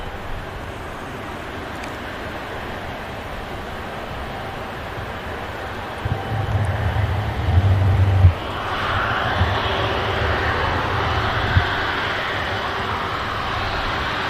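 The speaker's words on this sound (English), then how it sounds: "just rolling past the RVP is the 380" An Airbus A380 taxiing at Manchester Airport gives off a low, continuous jet engine rumble at a distance, swelling in the middle and then settling into a broader roar, with no voices.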